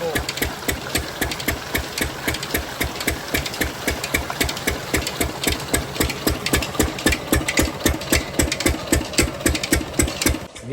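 An engine-driven water pump machine running at dawn in a village, a loud, steady, rapid thumping rhythm close by that holds throughout before stopping at the end.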